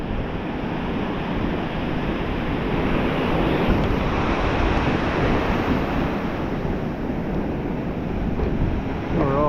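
Ocean surf rushes in a continuous roar, with steady wind buffeting the microphone and no voices.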